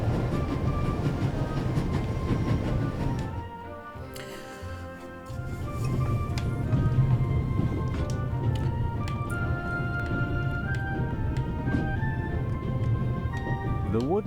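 A train in The Raven Remastered rushes along at full speed with a steady, loud rumble and rattle, dipping briefly midway as if through a tunnel, while a voice talks over it throughout.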